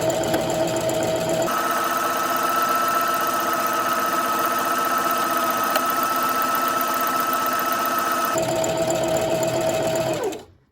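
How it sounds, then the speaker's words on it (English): A Singer Heavy Duty 4432 mechanical sewing machine stitches a buttonhole with a fast, steady whirring buzz that runs continuously, shifting pitch slightly midway, then winds down and stops near the end. "you're just going to hit your presser foot and go"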